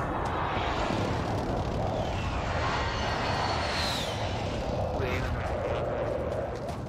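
Airstrike explosions in a video game make a loud, dense, continuous rumbling roar like heavy bombardment with an aircraft drone, and a voice briefly speaks over it.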